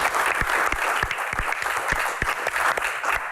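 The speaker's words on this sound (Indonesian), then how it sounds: "Akamsi, tepuk tangan dong Akamsi" Studio audience at a comedy Q&A show breaks into steady, dense applause, many hands clapping together close and loud for the whole stretch with no voices over it.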